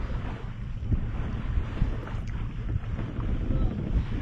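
A sailboat under sail at about 3.5 to 4 knots off the Breton coast near Bénodet bay, with steady wind rumble on the microphone and water washing along the hull, continuous and fairly loud, with no speech.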